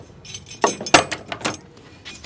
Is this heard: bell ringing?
no